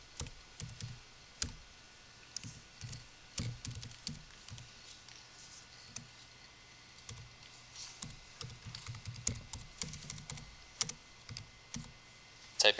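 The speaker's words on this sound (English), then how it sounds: "Typing one-handed is not my strong suit" Slow, uneven typing on a computer keyboard, done one-handed, with scattered soft clicks and short pauses between keystrokes. The sound is faint and close, with no voices.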